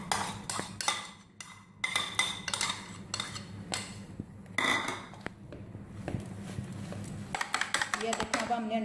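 Eggs beaten with a utensil in a bowl, quick irregular clinks and taps against the bowl, close and fairly loud, with someone talking over the work.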